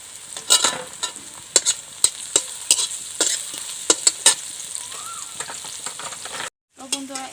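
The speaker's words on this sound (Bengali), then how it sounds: "কাঁচা লঙ্কা দিয়ে ভালোভাবে লাড়াচাড়া করে নেব" Green chillies stirred in a hot frying pan: a constant soft sizzle broken by sharp, repeated scrapes and taps of a spoon against the pan, close and clear, with no talking.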